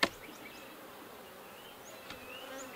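Honey bees buzz in an opened hive box, a steady soft drone with individual bees whining past, after a sharp knock at the start, faint and close with no voices.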